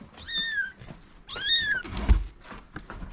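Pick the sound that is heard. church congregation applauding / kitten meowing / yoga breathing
kitten meowing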